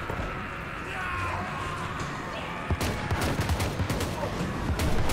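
Cannon fire in a multiplayer fantasy battle game, Khorne against Ogre Kingdoms: a dense battle din with a rapid volley of booming shots in the second half, mid-distance, over constant background roar.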